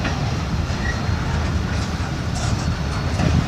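A short CSX local freight train rolls past nearby with a steady rumble of railcars and faint rhythmic wheel clatter, continuous throughout.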